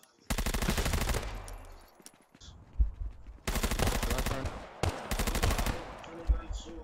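Automatic gunfire in the VR shooting game Contractors, three long rapid bursts separated by short gaps, loud and close with brief quieter sounds between them.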